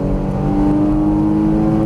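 Porsche Cayman GTS engine pulling hard on a racetrack, a loud, steady, close-up engine drone with a strong sustained tone and no speech over it.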